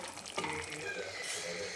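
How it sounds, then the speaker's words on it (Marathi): Heated water pours steadily into a pan of egg curry, a continuous splashing hiss close up, with a faint voice in the background. "तर हे गरम केलेलं पाणी आपण सोडून घेणार आहे याच्यात"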